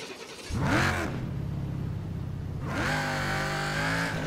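A car engine in the racing game Burnout Paradise revs and drones steadily with rising and falling pitch, loud and close, running continuously without any talk.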